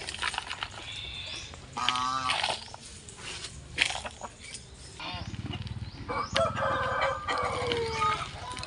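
Chickens cluck and call near a home garden of ornamental plants, a series of close, varied clucks and short squawks with a rooster-like crow, amid light background noise and no clear talk.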